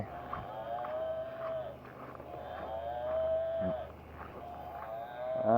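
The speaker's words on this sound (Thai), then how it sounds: "ให้เจ้าควายนำไป" Water buffalo lowing in an outdoor seaside setting, long drawn-out tonal moans repeating three or four times at moderate distance, with steady background ambience and no talk.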